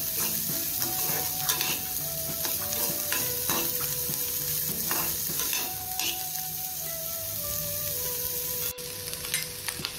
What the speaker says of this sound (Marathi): याचा थोडासा आपल्याला कच्चेपणा जाण्यासाठी थोडंसं परतून घेऊया.